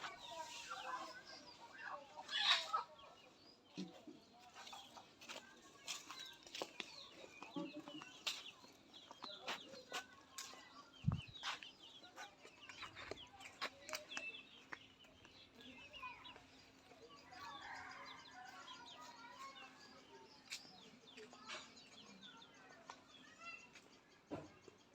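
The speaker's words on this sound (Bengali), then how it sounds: "দেশি মুরগি দেখেন।" Local country chickens on a rural riverside char farm clucking softly and intermittently at a distance, under people talking nearby in a quiet outdoor setting.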